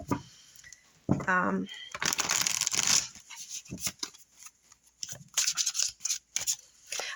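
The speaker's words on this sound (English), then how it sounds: "So I'm just going to shuffle them" Crisp riffling and slapping of a tarot deck being shuffled close by, in short bursts with brief pauses, fairly loud against a quiet background.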